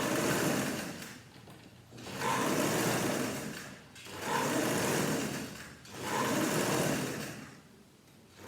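Top stitching on a vest runs through a sewing machine in four sustained whirring passes, each swelling and easing off with brief dips between, steady and close with no talk.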